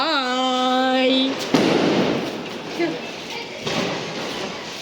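Diwali firecrackers burst at a Lakshmi Puja celebration in Bangalore. A sharp bang follows a brief spoken voice, then a second, softer crack comes a couple of seconds later over a noisy outdoor background.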